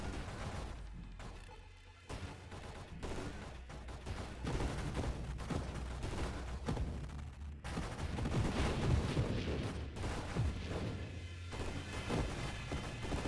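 Rapid projectile fire from a space-snake ship in Free Range Space Snake, shots crackling steadily with each strafing move over a low droning hum, continuous and moderately loud.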